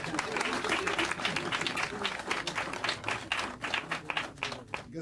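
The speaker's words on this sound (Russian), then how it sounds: "И жидкие аплодисменты во главе с Борщевским." Applause from a televised game show audience, a dense patter of many hands clapping at close range, steady for several seconds with talk mixed in.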